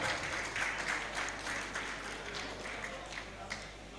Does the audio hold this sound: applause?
yes